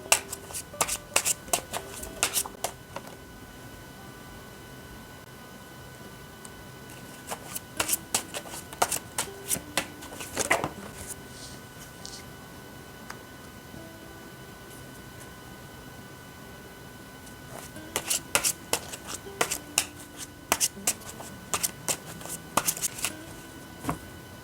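Tarot cards being shuffled by hand in two long bursts of crisp riffling and flicking, separated by a quieter pause, heard up close with no voices.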